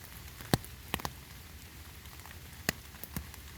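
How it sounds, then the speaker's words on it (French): Rain falling in a forest: scattered, irregular drops tapping leaves over a soft, steady patter, with a few sharper close drips standing out now and then. "Et tu entends la pluie couler."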